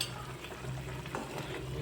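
Chavanu curry is stirred in a pan right after kasuri methi goes in: a steady close scraping and stirring under a soft continuous sizzle, with occasional light clinks. No one speaks.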